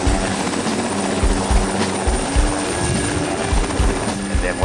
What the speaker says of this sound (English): And then when the helicopter comes